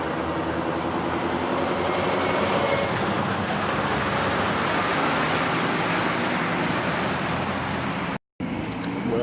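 A Scania truck at a Sibylla roadside lunch stop near the E45 highway gives off a steady, loud, broadband engine and road rumble that runs continuously, broken only by a brief cut near the end.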